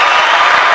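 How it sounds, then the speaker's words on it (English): Dense audience applause filling a short stretch, a steady wash of many hands clapping at once, loud and close with no pauses. "Can we get a round of applause for that?"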